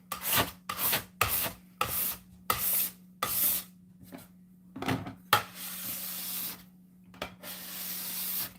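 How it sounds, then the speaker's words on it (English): A scraper drawn over a floury table in a home kitchen, making a run of close, brisk rasping strokes with short pauses between them and no talk. "if I don't use some kind of scraper like this, there's just like flour just stuck to the table"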